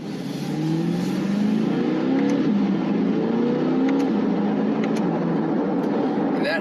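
A Chevrolet C8 Corvette engine revs up and climbs steadily in pitch as it accelerates hard, loud and close, with a rising whine through several gear changes.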